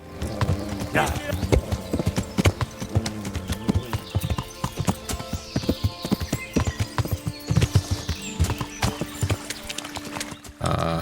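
Rapid, steady video game horse hoofbeats clatter close by in Kingdom Come: Deliverance, with an occasional whinny and a voice talking over the galloping rhythm.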